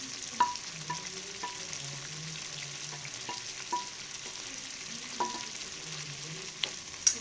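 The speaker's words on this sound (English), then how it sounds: "now to this we'll be adding in the sauteed capsicum, mushrooms and the onions" Sauteed capsicum, mushrooms and onions fry in a kadhai for a restaurant-style kadhai mushroom dish, giving a soft continuous sizzle broken by repeated scraping stirs close by.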